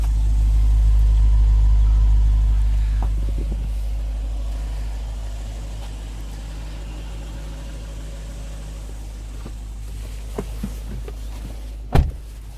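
A Lexus GS F 10th Anniversary Limited sedan rumbles with a deep, steady exhaust idle, loud at first and then easing to a lower drone, with a sharp click near the end.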